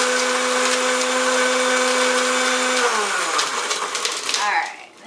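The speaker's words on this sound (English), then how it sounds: "just throw it in your blender because your blender will crush your ice for you" A blender crushes ice for a berry cheesecake cocktail, a loud steady motor whine that drops in pitch as the blades slow and wind down near the end.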